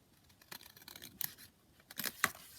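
Scissors snip through a handmade paper pocket on an altered-book junk journal page, a few quiet, close cuts spread over a couple of seconds, with no talking.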